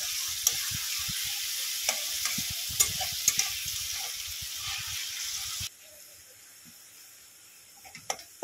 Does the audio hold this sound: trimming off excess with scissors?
no